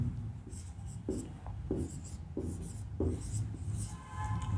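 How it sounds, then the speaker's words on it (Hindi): A definition being handwritten on paper, with close, repeated scratchy pen strokes in short bursts over a low background hum; no one speaks. "तो सबसे पहले हम इसकी परिभाषा लिखते हैं।"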